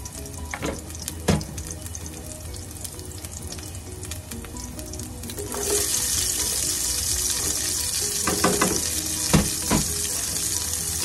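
Garlic and onion frying in a pan, a constant hiss that swells sharply louder midway when the onion goes in, broken by a few clattering utensil knocks; no voices.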